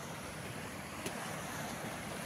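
A river swollen after heavy rain rushes past near a bridge, a steady, dense roar of flowing water with no voices.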